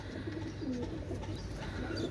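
Pakistani pigeons coo softly in a short, faint stretch of low, rounded calls over a steady background murmur.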